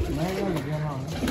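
Pigeons coo nearby in soft, wavering low calls while someone talks over them through the whole short stretch.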